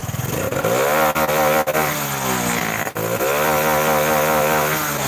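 A Honda Blade fuel-injected motorcycle engine revs loudly and close, its pitch rising and falling through several throttle blips with a steady harmonic drone underneath.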